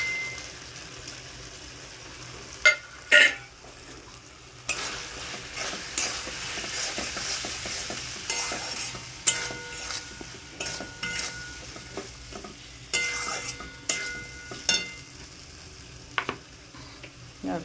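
Spiced tomato and potato with turmeric, chilli, cumin and garam masala being stir-fried in a pan for new-potato aloo dum: continuous sizzling with repeated scraping and clinking of a spoon against the pan, loud and close.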